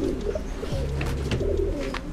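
Pigeons cooing at a bird seller's stall, low repeated coos close by over a steady murmur of background noise, with no talking.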